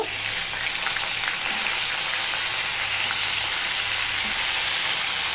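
Broccoli pieces fry in a pan of hot oil, giving a constant loud hiss and crackle with no pauses.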